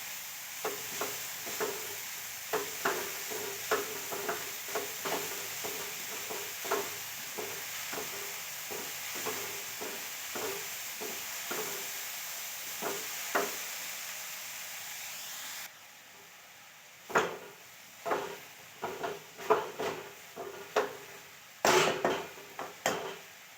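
Chickpea leaf bhaji with tomato, onion and spices being stirred in a kadhai: repeated scraping strokes of a spatula over a soft frying sizzle, close and rhythmic, pausing briefly midway before quicker stirring resumes.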